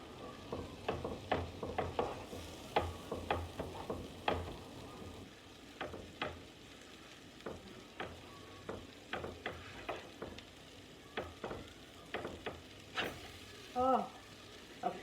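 Repeated sharp scraping clicks of a spatula chopping vegan chopped-cheese filling in a skillet, irregular rhythm, close, over a steady background sizzle.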